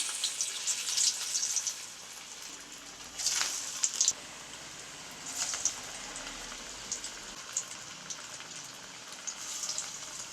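Cassava vada fry in hot oil, a steady hissing sizzle with a few louder bubbling surges, close and with no talking.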